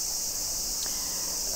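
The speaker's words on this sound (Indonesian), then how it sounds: "suara kalau di Jawa Tengah mungkin namanya garengpung" Cicadas (garengpung) shrill steadily in a Tsukuba, Japan summer, a continuous high buzzing drone that holds at even loudness throughout with no other sounds.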